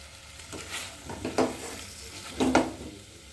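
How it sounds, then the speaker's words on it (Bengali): Chicken fries in butter with salt, a steady close sizzle punctuated by a few louder scraping bursts as the pieces are stirred around the pan. "বাটার দিয়ে ফ্রাই হচ্ছে তো খুব সুন্দর একটা স্মেল বেরিয়ে গেছে"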